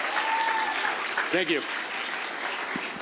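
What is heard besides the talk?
audience applause for a chef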